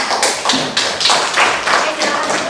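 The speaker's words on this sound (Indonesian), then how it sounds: "Oke, boleh diberi tepuk tangan anak-anak?" Children in a classroom clap together in a lively, slightly uneven burst of hand claps, close and fairly loud, with rhythmic peaks throughout.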